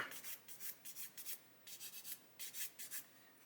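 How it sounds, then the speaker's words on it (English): Quick, soft rhythmic rubbing strokes of sandpaper on small plastic parts from an Airfix 1/24 F6F-5 Hellcat model kit, taking off sprue nibs, close and faint with no talk. "So I'll just sand those sprue nibs off of there"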